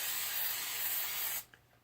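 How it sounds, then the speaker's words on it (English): Hairspray sprayed onto a burlesque costume to set glitter accents, one close continuous aerosol hiss lasting about a second and a half before cutting off sharply, followed by a faint click. "This is hairspray, so you know it's meant to dry instantly."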